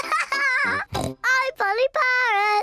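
Two young cartoon pig children pretend to be parrots, speaking in squeaky, high-pitched, sing-song voices that imitate a parrot's chatter in several short bursts over a few seconds.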